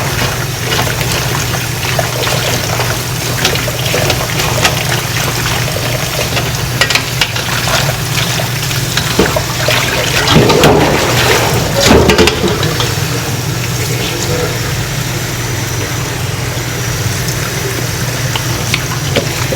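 Cucumbers for soy sauce pickles rinsed in water, a continuous splashing and sloshing with handling noises, close and loud, with a brief stronger swirl of water midway.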